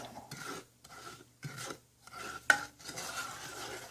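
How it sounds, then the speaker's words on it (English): A spoon scrapes and rasps around a pot of sugar syrup on medium heat in slow, repeated strokes, with a single sharp metallic clink partway through; close and fairly quiet. "We're just going to stir this up"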